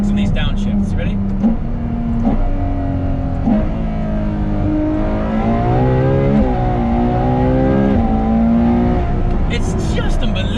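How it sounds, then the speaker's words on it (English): A Ferrari F12 TDF V12 engine revs and drops through rapid gearbox downshifts on a road, each blip rising and falling in pitch. It is loud and close, with a voice talking over it. "Just listen to the relationship between the engine and the gearbox and these downshifts."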